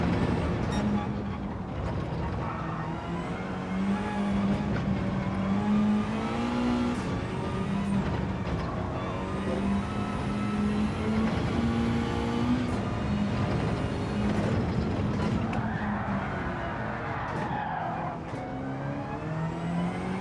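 A McLaren race car in Gran Turismo 7 drones steadily through a lobby race, its engine note rising and falling through gear changes and throttle lifts, loud and continuous, with another car's whine passing briefly.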